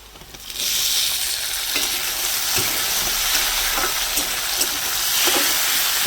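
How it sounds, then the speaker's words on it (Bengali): Onion and tomato fry in a pan with a loud, steady sizzle that runs unbroken after a brief quiet start, with faint scrapes from stirring. "আমার পেঁয়াজটা লাল করে ভাজা হয়ে গেছে মোটামুটি এবার আমি দিয়ে দেবো তো টমেটো কুচিটা"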